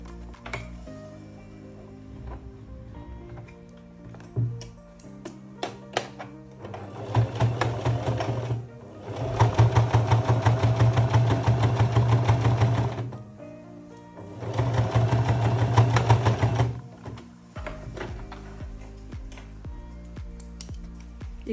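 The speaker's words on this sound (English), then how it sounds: "we're just going to really carefully edge stitch very close to this edge just to close this gap" A sewing machine edge stitches close to the edge of a wrap skirt's waistband in three loud, steady whirring runs separated by short pauses and light handling noises.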